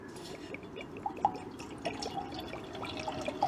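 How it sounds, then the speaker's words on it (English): Water trickles and drips into a metal pot in small splashes at a park-and-ride car park, fairly quiet, with a low background rumble and no talking. "Get a bit of water in here."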